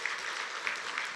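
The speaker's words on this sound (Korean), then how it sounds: "우리 박수로 한번 환영하겠습니다." A church congregation applauding during a Sunday praise service, steady dense clapping throughout at moderate level with no pauses.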